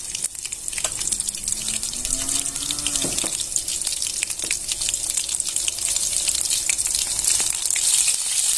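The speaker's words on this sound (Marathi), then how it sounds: "इथे मी चार मिरच्या घेतलेल्या आपण त्या पहिल्यांदा घालून घेऊया एक टीस्पून जिरे घालून घ्यायची आहे" Green chillies and a teaspoon of cumin hitting hot oil for a village-style jeera rice and varan bhaat, giving a steady, loud, close hiss and crackle that runs unbroken throughout with no talking.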